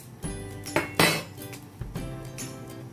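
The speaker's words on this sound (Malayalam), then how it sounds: "നമുക്ക് 1 charcoal പീസ് ഇതിന്റെ ഉള്ളിലേക്ക് ഒന്ന് ഇട്ട് കൊടുക്കുന്നുണ്ട്." A piece of charcoal is dropped into a small bowl set in the middle of a pot for smoking seekh kabab, giving a few sharp close clinks and knocks against the dish.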